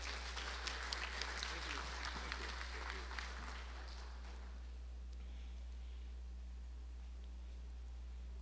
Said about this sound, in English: I would like everyone to give a big round of applause to our first afternoon speaker, Professor Carl Hart